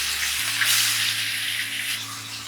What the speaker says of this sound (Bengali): গরম তেলে মাছ দেওয়া হলো